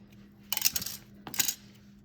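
Scissors snipping the end of a lock lace, two quick bright metallic clicks about a second apart, close and fairly faint.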